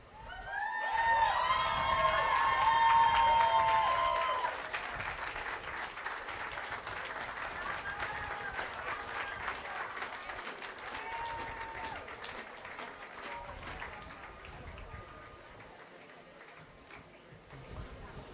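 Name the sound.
crowd applause at rally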